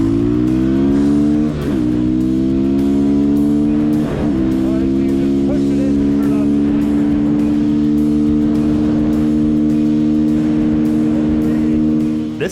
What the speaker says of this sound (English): let's see what our top speed is going uphill on pavement